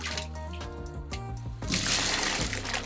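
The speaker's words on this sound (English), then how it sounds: "this is how you flush the toilet." Water poured from a jug into a squat toilet in Nepal, a loud sloshing gush that builds after a second and a half of dripping, running sounds and continues splashing to the end.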